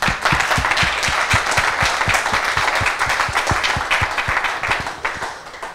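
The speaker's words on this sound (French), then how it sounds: "Donc ça, c'est un applaudissement pour tous." Applause at a scientific conference session, a steady wash of many hands clapping with distinct sharp claps in rhythm, loud and close, continuing alone for several seconds before tapering at the end.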